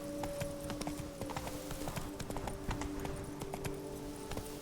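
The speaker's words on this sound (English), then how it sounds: "Giddy up." Horse hooves clip-clopping at a steady galloping rhythm in The Witcher 3, with occasional snorts over a faint game ambience; no talking.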